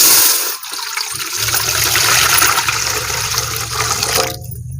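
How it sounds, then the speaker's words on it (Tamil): Water pours steadily into a cooking pot to make jelly for a fruit jelly cake, a close, continuous splashing fill that runs for nearly the whole stretch after a brief start. "அதுக்கு வந்து தண்ணீர் சேர்த்துக்கலாம்."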